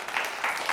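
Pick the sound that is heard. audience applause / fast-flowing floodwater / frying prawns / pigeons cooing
audience applause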